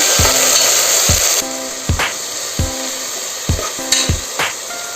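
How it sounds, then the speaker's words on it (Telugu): Curry paste for mutton curry frying in a hot pan, a steady loud sizzle with repeated sharp knocks and scrapes of a spoon stirring against the pan, alone without talk. "ఇది కొంచెం ఫ్రై కావాలి పచ్చిదనం పోయే వరకు ఫ్రై చేసుకోవాలి"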